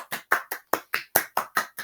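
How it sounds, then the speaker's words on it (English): A round of applause led by a teacher in a children's inventor lesson: about nine sharp, evenly spaced claps from one or a few people, fairly close and brisk, with no talking. "Let me see a round of applause"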